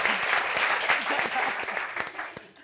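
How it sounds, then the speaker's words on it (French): Audience applause in a studio talk show, a lively burst of clapping at moderate volume that tapers off toward the end, with a few voices underneath. "Applaudissements pour ça."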